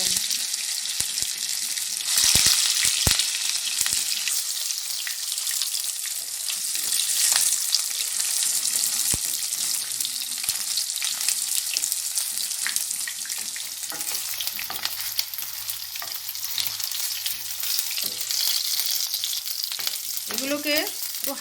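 Chitol fish muitha dumplings fry in hot oil, giving a continuous bright sizzle and crackle with occasional stirring clatter and splashing water, steady and close, with no voices.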